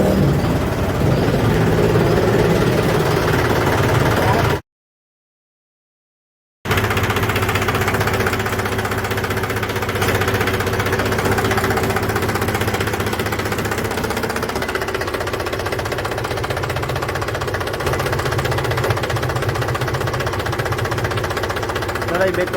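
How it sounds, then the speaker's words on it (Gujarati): A Mahindra 275 tractor diesel engine runs after an oil service with Castrol CRB Plus oil and Bosch filters. It makes a steady, loud, close knocking drone that breaks off briefly once. "એકદમ નવા ટ્રેક્ટર જેવું એન્જિન ટકાટક મધુર ફાયરિંગ."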